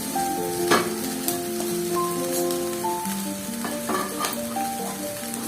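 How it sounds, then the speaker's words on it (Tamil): Crumbled idli sizzling in a pan as it is stirred into upma, a steady close frying hiss with soft scraping of the spoon throughout. "சேர்த்துட்டு இதையும் நல்லா கிண்டிடுங்க."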